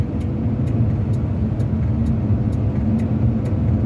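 Cars drive along a city street in Saratov in winter, heard as a steady, loud engine and tyre rumble from inside a moving vehicle, with a faint regular ticking over it.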